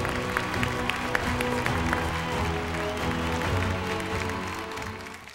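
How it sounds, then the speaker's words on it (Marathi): An audience claps for presenters on stage at an award ceremony, a dense, steady patter of applause mixed with a tonal background. "जोरदार टाळ्या दोघांसाठी"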